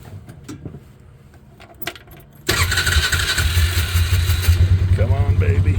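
A Polaris Ranger utility vehicle starts after some quiet clicking and handling noises, then settles into a loud, steady, close-up idle with a pulsing chug and a short voice near the end.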